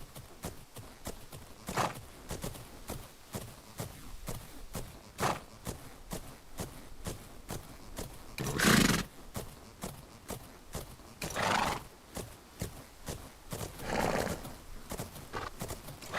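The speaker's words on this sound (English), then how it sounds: "He sounds like a really nice horse." In the Fernhoof Grove video game, a palomino horse's hooves clip-clop in a steady walking rhythm. Its hoof beats are broken by a few loud snorts and whinnies that stand out sharply.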